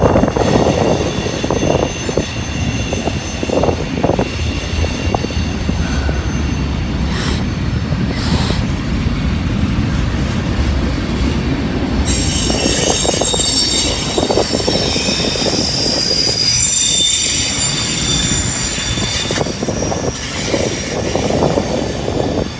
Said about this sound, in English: it's a long train here. I still can't see the end of